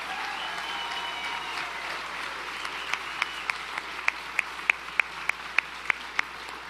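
An audience at a campaign event for Senator Graham applauds to welcome Second Lady Karen Pence, a broad wash of clapping from a crowd with a few sharper individual claps standing out near the end.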